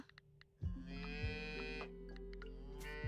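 Cows low in a farming video game, one long loud moo close by over a few seconds, with soft clicks before it.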